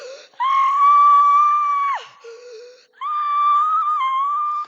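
A person screams in two long, loud, sustained high-pitched cries separated by a brief lower wheezing breath, close and piercing.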